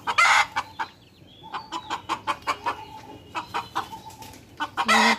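Laying hens and a rooster on a poultry farm cluck in short, irregular bursts close by, with a few louder squawks at the start and end and no talk.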